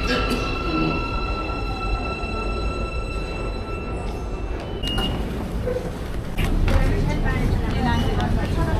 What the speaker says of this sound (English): I am now getting into the metro